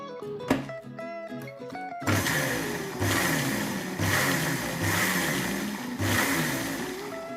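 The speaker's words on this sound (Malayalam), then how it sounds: "നമുക്കിത് മിക്സിയിൽ ഒന്നുകൂടി ഒന്ന് കറക്കിയെടുക്കാം." An electric mixer grinder whirs loudly and steadily as it blends homemade mayonnaise with added oil, starting after a brief musical opening and surging in rough pulses about once a second.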